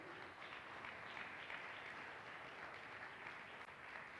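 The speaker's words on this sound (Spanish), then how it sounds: "Démosle palmas al Rey" A church congregation claps together during a Spanish-language worship service, a steady, even wash of applause held at moderate, slightly distant volume with no voices on top.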